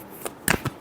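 Tarot cards being shuffled, a quick few crisp riffling flicks in under a second, close and clear with no talk.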